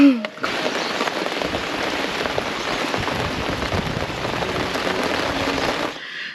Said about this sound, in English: So the bucket is slowly starting to fill, and you can actually see the line where the rain stops